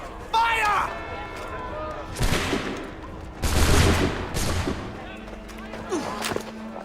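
Musket volley fire in Assassin's Creed 3, heard as several loud rough bursts of gunfire spread over a few seconds, with voices and game sounds mixed in around them.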